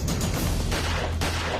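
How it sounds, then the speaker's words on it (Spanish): Loud, dense gunfire cracks in quick succession, with a couple of sharper blasts standing out, nearby and continuous with no talking. "realizó 3 disparos y el cuarto a quemarropa"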